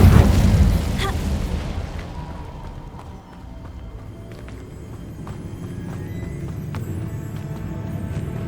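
Incendio fire spell cast in the Hogwarts Legacy video game: a loud burst at the start, then a long rumbling, crackling tail that fades and lingers at a lower level.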